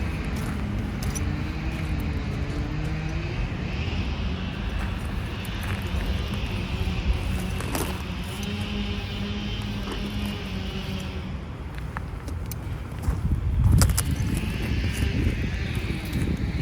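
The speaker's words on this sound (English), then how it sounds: "It's the sound of landscaping." Landscaping equipment droning steadily outdoors at an RV site, a continuous engine hum with broadband noise and a brief louder swell near the end.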